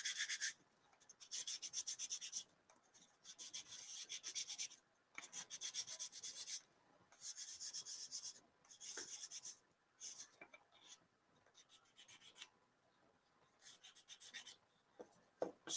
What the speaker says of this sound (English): light sand, kind of moving in circular motion